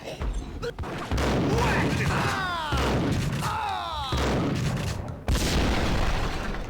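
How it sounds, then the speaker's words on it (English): Explosions and gunfire in the video game Max Payne: a loud booming blast followed by rolling bursts of fusillade with sweeping metallic whistles, sustained and dense across the clip. "The first glimpse of what an explosion looks like in this game."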